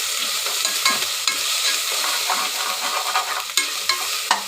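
Onions, ginger and garlic frying in a pan for a cabbage curry give a steady hiss of sizzle, broken by occasional sharper crackles and stirring scrapes, heard close up and without talk.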